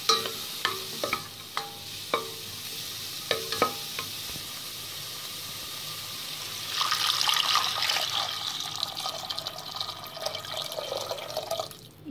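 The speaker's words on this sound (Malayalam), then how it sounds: "നാല് ഗ്ലാസ് വെള്ളമാണ് ഞാൻ ഒഴിച്ചിട്ടുള്ളത്" Four glasses of water poured into a cooking pot of vegetables for vegetable soup: a few light clinks and taps, then a steady splashing pour lasting several seconds before it stops.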